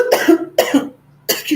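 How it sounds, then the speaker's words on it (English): Several loud, close coughs from a person, three harsh bursts spaced across the moment with short pauses between them, and no talk in between. "I make a choke on my own cough."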